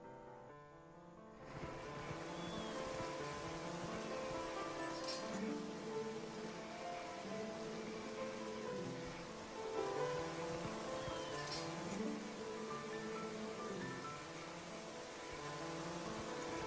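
Outdoor rainfall in The Legend of Zelda: Twilight Princess, a dense steady wash of drops that swells in after a quiet opening and holds evenly beneath soft background music, with no voices.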